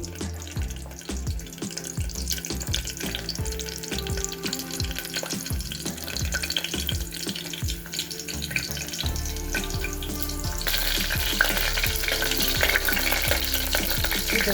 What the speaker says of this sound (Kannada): ಸ್ವಲ್ಪ ಎಣ್ಣೆ ಹಾಕ್ಕೊಂಡಿದ್ದೀನಿ ಅದಕ್ಕೆ ಜಜ್ಜಿರೋಂತಹ ಬೆಳ್ಳುಳ್ಳಿನ ಹಾಕ್ತಾ ಇದ್ದೀನಿ ಅದು ಸ್ವಲ್ಪ ರೋಸ್ಟ್ ಆಗಲಿ